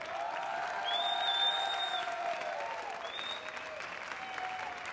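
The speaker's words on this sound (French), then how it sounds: "on peut l'applaudir bien fort pour tout le travail qui a été effectué ces 2 dernières années" Applause for a departing association coordinator at the prize ceremony of the 2017 French Coffee Championship finals at SIRHA, a steady, moderately distant clapping with tonal voices or whistles ringing above it.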